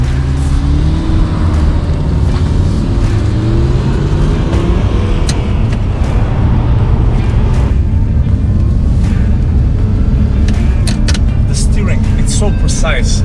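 An Audi R8 with a V8 and six-speed manual accelerates hard, its engine note climbing loud and close from inside the car, while a person talks over it.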